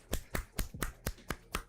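Sharp hand claps in a steady run of about seven evenly spaced slaps, close and crisp, with no talk over them.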